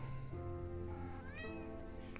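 A pet cat meows with a drawn-out, rising and falling cry, fairly faint and indoors over a steady low background hum.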